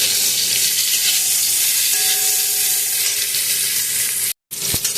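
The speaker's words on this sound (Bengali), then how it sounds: "এবার উচ্ছে ভাজা উচ্ছেটাকে ভেজে নেবো" Bitter gourd fries in oil in a wok with a loud, continuous close-up sizzle and hiss, broken by one brief silence near the end before the sizzling resumes.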